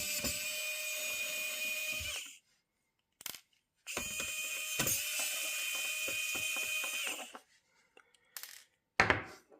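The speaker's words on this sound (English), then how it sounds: "Let me remove the screw." A screwdriver backs screws out of a Lenovo B50 laptop during a repair, giving close bursts of rapid ratcheting clicks separated by silent pauses and a few sharp ticks.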